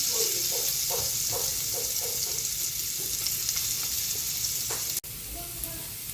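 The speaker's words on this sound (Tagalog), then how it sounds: "Magigisa na po tayo. Lagyan natin ng butter. Lagyan na rin natin ng bawang." Garlic sautéing in butter in a pan gives a steady close sizzle with a few soft stirring scrapes, and the hiss drops briefly near the end.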